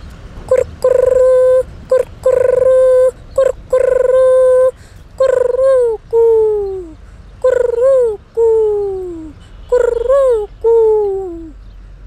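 A voice imitates a dove cooing, a series of about ten short tonal hoots that first hold steady, then bend downward in pitch, repeated in close, loud bursts with brief gaps and no other talk.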